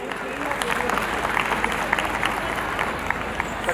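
An audience at a preschool festival stage claps loudly and continuously for a children's performance, with crowd murmur underneath and a voice speaking over it.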